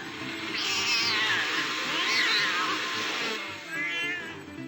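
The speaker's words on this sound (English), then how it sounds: "this is a cat in a blender" A cat meowing and caterwauling in a blender, from the You Don't Know Jack trivia game, with drawn-out wavering yowls, two long cries followed by a shorter one, over a steady background hum.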